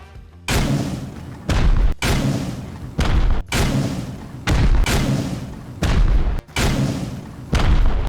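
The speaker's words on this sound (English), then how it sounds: "This is the Dragon launcher that comes out for New Year's, for Chinese New Year." Dragon rocket launcher from the Rust Chinese New Year event firing repeatedly during a base raid, seven loud booming blasts about a second apart, each a broad thudding burst with a short tail, no talk.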